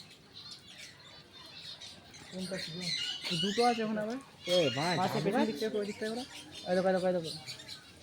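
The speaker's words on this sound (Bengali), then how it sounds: "দেখো দেখো ডাব গাছে পাখি" Birds squawk and chirp in short bursts nearby in a coconut tree while a person talks briefly over them.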